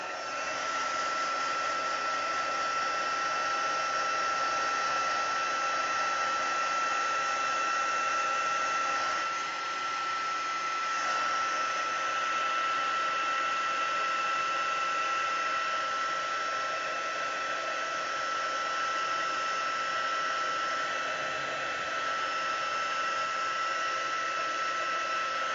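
A heat embossing tool blows hot air over a stamped card image in a steady, loud, continuous whoosh that lasts the whole time, with only slight shifts as the tool moves and no talking.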